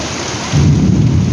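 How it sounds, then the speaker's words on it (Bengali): Heavy downpour with thunder in Belgharia during a storm, a steady wash of rain joined halfway through by a loud, deep rolling rumble of thunder close by; no talking. "পুরো বেলঘরিয়া সাইডে পুরো বৃষ্টি হচ্ছে, বিদ্যুৎও চমকাচ্ছে"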